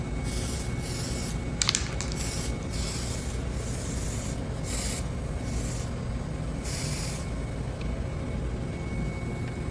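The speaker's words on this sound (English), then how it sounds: "I'm spraying the inside of the ring" Aerosol spray can hisses in repeated short bursts as it coats the inside and outside of a salt (NaCl) sleeve ring for a piston-cylinder assembly, close and loud, with a brief clatter near the two-second mark.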